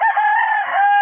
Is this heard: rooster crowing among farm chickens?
yes